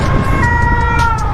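Emergency vehicle siren wailing on a road near Saint-Tropez, a loud, steady rising-and-falling tone heard close over heavy wind rumble and engine noise from a moving motorbike.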